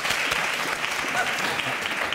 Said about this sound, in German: Dann klatschen Sie bitte jetzt.